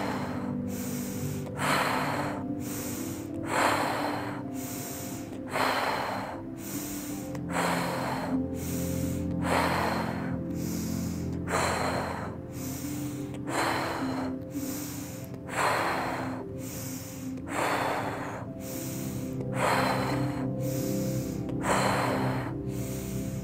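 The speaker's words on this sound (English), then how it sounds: "breathing in through our nose, out through our mouth" A person breathes rhythmically in through the nose and out through the mouth at close range, with about fourteen steady cycles of long, airy, sharp inhales and exhales under a soft musical background.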